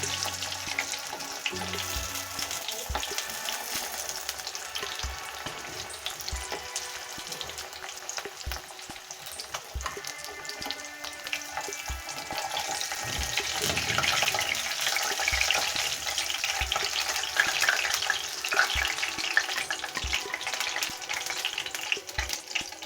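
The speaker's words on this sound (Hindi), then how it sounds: "इसी तरह से सारे पीस जो है वो फ्राई कर लेने हैं।" Fish pieces for a fish curry frying in a pan, giving a steady close sizzle that swells in the second half, with regular soft taps and a spatula moving the pieces.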